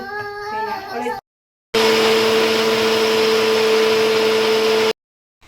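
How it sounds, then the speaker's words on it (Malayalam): An electric mixer blends sour mango for ice, giving a steady whirring motor whine with a strong constant hum for about three seconds, after someone briefly speaks. "അപ്പോൾ നമുക്ക് ഈ ബാക്കി വരുന്ന മാങ്ങയും കൂടി നമുക്ക് ഇതിൽ അടിച്ചു കൊടുക്കാം"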